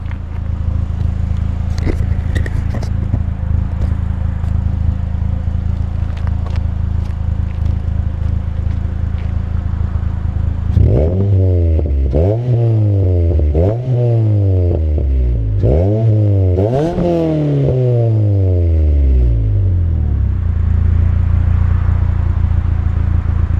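A 2-litre Ford Fiesta ST fitted with a Milltek exhaust passes outside: a steady idle rumble, then a series of sharp rising and falling rev sweeps, loud and close, before the engine drops back to a low drone.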